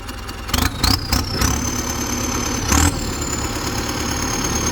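Ford 7740 tractor with a dozer blade, a 12-speed gearbox and a worked-over engine, running steadily close by. A rough low idle continues throughout, and a few brief sharp bursts of other noise sit on top of it.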